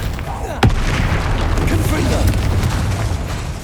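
Spell explosions from Bombarda and Confringo in Hogwarts Legacy: a sharp booming blast near the start, then a dense rumbling roar of continuous bursts and crackles, loud and close throughout.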